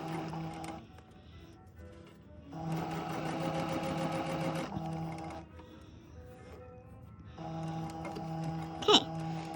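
A sewing machine stitching the serged hem of a kick pleat, running in three steady buzzing bursts separated by short pauses, close and clear with a small click near the end.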